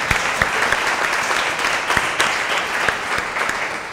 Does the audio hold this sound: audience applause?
yes